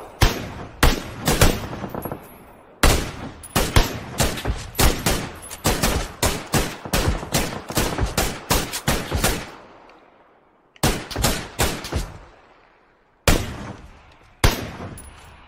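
Close, loud gunfire in a PUBG esports match: repeated sharp shots and rapid bursts with brief pauses, the shots echoing and decaying between volleys.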